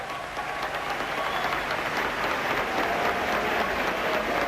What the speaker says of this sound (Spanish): Ahí empieza el aplauso de pie.